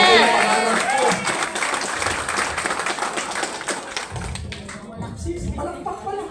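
An audience at a motivational talk applauds in a loud burst of clapping that fades over several seconds, after which a speaker's voice carries on with faint crowd murmur.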